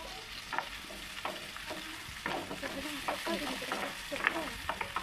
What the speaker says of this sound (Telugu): ఉల్లిగడ్డలు పచ్చిమిరపకాయలు వేసుకుంటున్నాం.